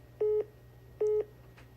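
Telephone call tones on an incoming call from Sydney: two identical short electronic beeps, evenly spaced about a second apart, clear and moderately loud over a faint steady hum.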